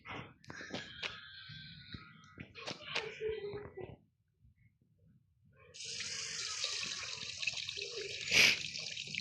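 In the Hello Neighbor video game, a water tap gushes in a steady stream for the last few seconds, following clattering game sounds and a short quiet gap, with a brief louder burst near the end.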